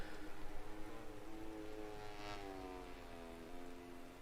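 Steady rain hiss from a MotoGP 20 video game race at a wet Jerez circuit, a continuous wash under rising and falling motorcycle engine tones, fairly loud throughout.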